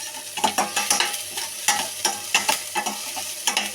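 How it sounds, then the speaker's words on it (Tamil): Spoon stirring onions sautéing in a hot pan, with repeated scraping strokes over a steady sizzle of frying, close and moderately loud. "போட்டு ஒரு கிண்டிட்டு லைட்டாக வதக்கிட்டு அப்புறம் தக்காளி போடணும்"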